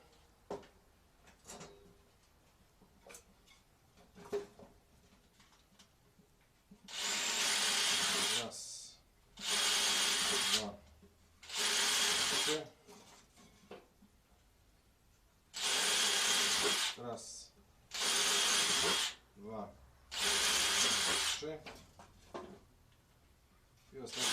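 A power drill bores into wood while building a beehive, running in six loud bursts of a few seconds each with short pauses between them, and quieter handling noises come before the first burst.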